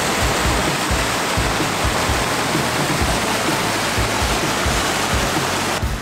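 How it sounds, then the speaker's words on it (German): The artificial Trusetal waterfall, fed by water diverted from the Truse stream, roars as a loud, constant rush of falling water close by, with no voices. "So, jetzt bin ich am Trusetaler Wasserfall angekommen."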